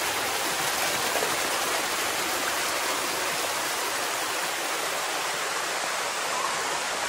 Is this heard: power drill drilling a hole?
no